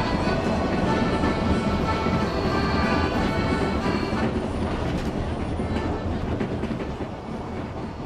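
Old train running on the Sæby railway line in Denmark, a steady, loud rumble of wheels and carriages with rhythmic clatter on the rails, continuous throughout and easing slightly toward the end.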